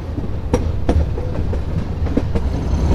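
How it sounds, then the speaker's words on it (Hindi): A meter gauge train rolls into a railway station with a steady low rumble and a clickety-clack of wheels over rail joints in an uneven rhythm. "ये अभी हमारी ट्रेन पहुंच रही है रेलवे स्टेशन पे"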